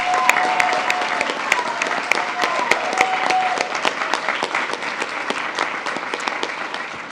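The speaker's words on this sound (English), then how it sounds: "let's give a big round of applause to these students" A school board meeting audience applauds student art award winners, giving close, crisp clapping with distinct individual claps over a steady wash that runs throughout.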